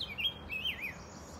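Grosbeak song outdoors in a park, a clear warbling phrase of rising and falling whistled notes, moderately close over quiet background hum, with no talking.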